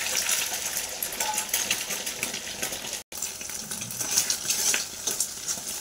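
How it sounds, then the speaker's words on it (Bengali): An egg frying in oil in a pan for egg chow mein, giving a steady, close broadband sizzle with a brief dropout midway, no talking. "তোমরা দেখতে পাচ্ছ আগে আমি ডিমটা ভেজে নিচ্ছি"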